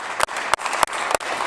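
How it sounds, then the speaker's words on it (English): Members of a legislative chamber give a short burst of applause: close, bright handclaps in rapid rhythmic strokes, about five sharp pulses over a second and a half. "We got more applause in here with our 20 colleagues"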